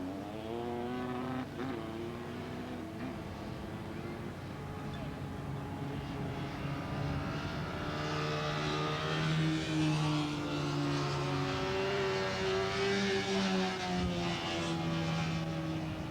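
Honda VF500F Interceptor motorcycles racing at Willow Springs International Raceway in 1986, heard as a continuous, fairly loud engine drone from several bikes whose pitches overlap and shift as they pass, with no clear gaps.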